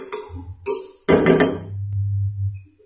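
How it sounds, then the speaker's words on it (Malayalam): Cabbage stirred in a pan for a Kerala cabbage mezhukku puratti stir-fry, with a few sharp spatula scrapes and clatters up close, then a steady low sizzle and hum. "ക്യാബേജ് തന്നെ ഇളക്കി കൊടുക്കുക."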